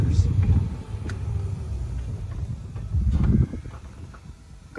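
A fire engine red Western 300 golf cart backs up in reverse, giving a steady low motor rumble close by with small bumps and knocks. It swells briefly near the end, and a voice speaks over it in places.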